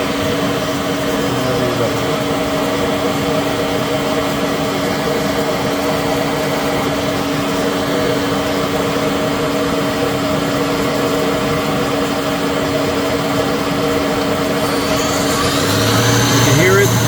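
A Citizen L20 CNC Swiss lathe runs its main spindle at 7,000 RPM with a rotary guide bushing, giving a steady, even machine hum with fixed tonal lines. It stays constant and fairly quiet throughout, with a slight change near the end.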